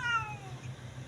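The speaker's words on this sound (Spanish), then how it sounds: "Un gatico con cara de malo." A cat at a cultural venue in Santa Clara gives a single short, clear meow that falls in pitch. It is heard close up over faint low background noise.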